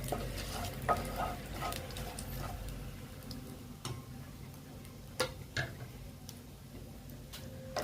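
Sugar frying in a modest amount of hot oil for a tempering base, a steady low sizzle with occasional crackles and light clicks of a utensil stirring in the pan, close and fairly quiet.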